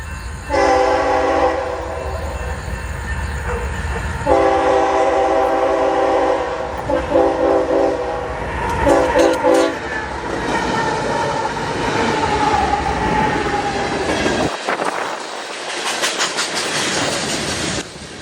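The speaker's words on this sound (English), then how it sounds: "where we catch this UP rock train" A Union Pacific freight train loaded with rock rumbles past up close in Richmond, Texas, with steady wheel clatter, its horn blaring in long blasts during the first half, no voices.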